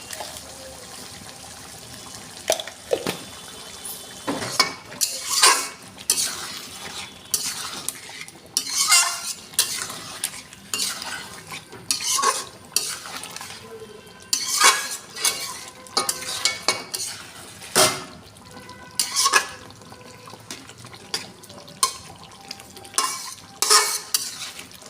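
Chicken with turmeric and salt being stirred and sautéed in a pot, loud repeated spoon scrapes and clanks against metal in an uneven rhythm, close and alone with no talking.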